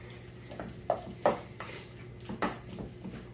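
Chopped chipotles and avocado oil being mixed into pork strips in a bowl, with a few soft clinks and scrapes of a utensil against the dish, gentle and close.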